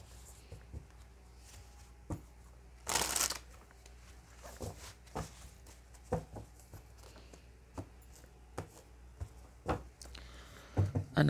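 An oracle card deck is shuffled by hand in a quiet room. Soft, irregular riffles and taps come at close range, with one louder burst of card flutter near the start.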